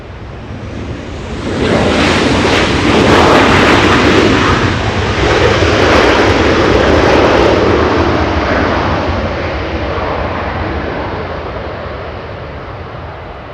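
A WestJet airliner in Disney Frozen livery at Los Angeles International Airport roars past, a loud broadband jet rumble swelling in, holding for several seconds, then slowly fading, with no talk.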